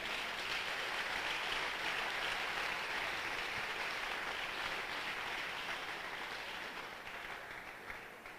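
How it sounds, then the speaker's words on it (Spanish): A church congregation applauds loudly and steadily, a dense wash of clapping that tapers off slightly toward the end. "Dele un aplauso fuerte al Señor."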